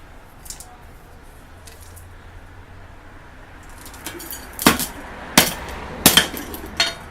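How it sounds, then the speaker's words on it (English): Hammer blows smashing rock in a homemade DIY rock crusher: four or five sharp, loud, close impacts in the second half, spaced irregularly about half a second to a second apart, after a quieter stretch of faint clatter. "I'm going to smash this up a little more with a hammer"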